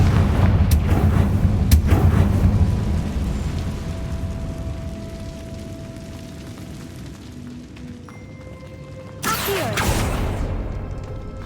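Confringo blasting-spell explosions in the Hogwarts Legacy video game: a couple of sharp booms early on, a lull with a faint tone, then a loud crackling burst near the end.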